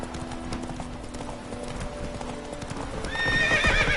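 Geralt's horse Roach in The Witcher 3 video game clip-clops with steady hoofbeats at a walking rhythm, then gives a loud whinny near the end.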